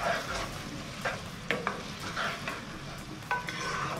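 Mixed vegetables, including capsicum, are stirred and fried for fried rice, with a spatula scraping and clinking repeatedly over a steady sizzle, close and fairly clear.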